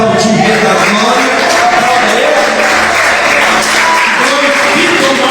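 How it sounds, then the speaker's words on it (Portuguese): A church congregation applauding during a sermon, with dense, sustained clapping and crowd noise filling the whole stretch at high volume, while a voice speaks over it. "Você puder aplaudir o Rei da Glória."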